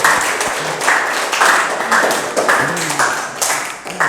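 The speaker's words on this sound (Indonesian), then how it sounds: "tepuk tangan dulu untuk semuanya" Applause from a group at a lecture, a dense patter of claps with a few voices talking over it.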